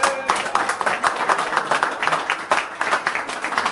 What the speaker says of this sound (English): Give Josh a big round of applause, guys